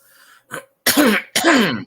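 Two or three sharp, loud coughs close to the microphone, preceded by a soft throat sound, with short pauses between bursts.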